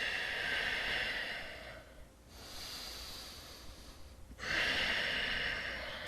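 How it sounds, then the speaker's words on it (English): Slow, controlled breathing in and out through the nose during a beginner floor exercise workout, a close soft airy hiss that swells, pauses quietly, then returns with another long breath. "Try to maintain a sense of control to your breathing in and out of the nose."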